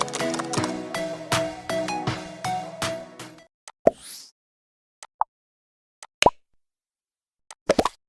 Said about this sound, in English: So this was the pop sound effect.